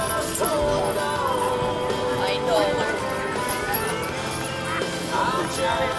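A team of draft horses, Mac and Buck, together weighing 4,800 pounds and from Owen Sound, Ontario, drag a 4,000-pound load on a boat at a fall fair horse pull. Hooves clop steadily throughout beneath continuous loud announcer talk.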